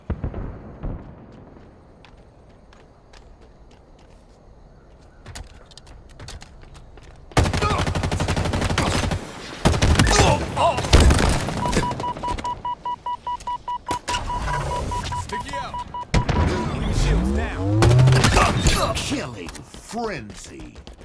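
Gunfire in the Halo Infinite video game, with rapid automatic bursts and sharp single shots that start abruptly and repeat loudly over a game beeping tone, while voices speak briefly in between.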